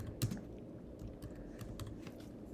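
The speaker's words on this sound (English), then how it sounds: "make sure you type your name, Jane Doe." Quiet tapping on a computer keyboard, a short run of light, irregular keystrokes close up while a name is typed, with no talking.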